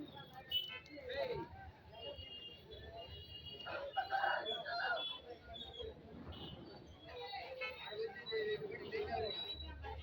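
A rooster crows over nearby chatter, its harmonic call rising through the middle of the recording among clucks and people talking.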